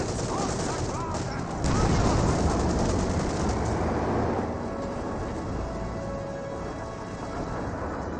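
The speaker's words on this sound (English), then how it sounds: "A lot of rifle fire here." Rifle fire in a WWII Company of Heroes match, a dense crackle of scattered gunshots and volleys that stays continuous and fairly loud throughout, mixed with distant rumbling battle noise.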